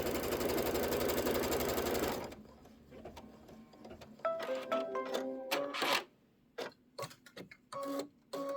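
A home embroidery machine sews a placement stitch on fabric: a steady, loud mechanical whir at first, then stops, followed by scattered clicks and short mechanical bursts with brief silences between them.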